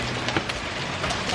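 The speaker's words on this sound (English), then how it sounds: "So it started hailing." Hail falls on and around a house, a dense steady patter with sharper scattered ticks of stones striking hard surfaces nearby.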